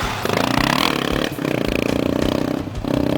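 A 400 XR motorcycle on a dirt raid route in southern Madagascar rides through a puddle, its pulsing engine note mixed with scraping, splashing clatter close by, without speech.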